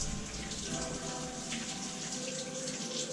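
Tap water running steadily into a sink while an onion is washed under it, a constant close splashing hiss.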